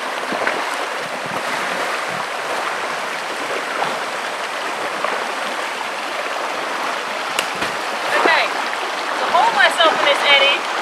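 River water rushes steadily around a canoe as it turns into an eddy in moving current, a broad continuous wash close by, with a few splashes near the end.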